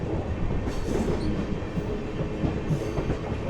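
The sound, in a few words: Nagercoil special train overtaking on a parallel track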